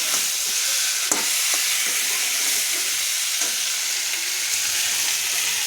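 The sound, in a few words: marinated chicken frying with browned onions in a pan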